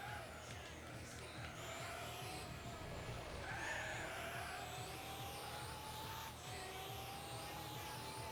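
A steady engine drone with rising whine, continuous and fairly loud, of the Nike ONE 2022 race car in Gran Turismo 7 at Trial Mountain, heard from inside, like a dental vacuum, with no voices.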